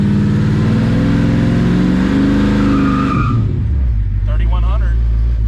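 A car on a street pull after a torque converter install accelerates hard, its engine revving loud and rising in pitch for about three seconds before easing off to a lower drone; a brief voice-like warble sits near the end.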